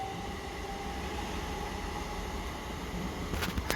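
A train rumbles steadily past on the rails in West Sussex, with a heavy continuous roar and a few sharper clanks near the end, and no talking.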